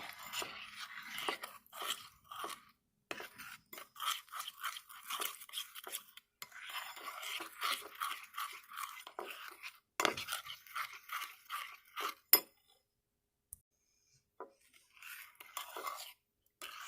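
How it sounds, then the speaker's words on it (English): Keto treat ingredients stirred in a bowl with a utensil: a steady run of close scraping and clinking strokes against the bowl, briefly pausing, then a sharp knock and near silence before a few final stirs. "I want to get it stirred"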